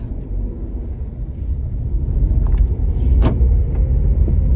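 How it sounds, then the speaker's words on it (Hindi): A Renault Triber car sits idling with a steady low engine rumble that swells slightly as it starts moving, with a brief click or clunk near the end and no talking. "गाड़ी हमारी हो गई स्टार्ट"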